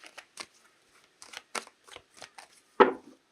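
Tarot cards are shuffled close up in a series of short riffling bursts separated by brief pauses, ending with a louder, fuller riffle.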